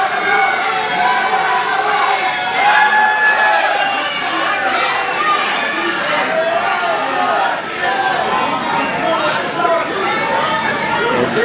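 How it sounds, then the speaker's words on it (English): A wrestling crowd at an Emerge Wrestling event roars in a sustained ovation for the champion, loud and continuous cheering and chatter filling the arena throughout. "Listen to the ovation for the world's most dangerous champion."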